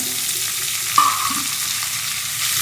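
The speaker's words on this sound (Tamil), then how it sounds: "தேங்காய் சேர்த்து நல்லா சேஃபாகவே வறுத்துட்டோம்" Grated coconut sizzles steadily in a pan while being roasted for a white chickpea sundal, a broad frying hiss with a brief scrape of stirring near the middle, no talk.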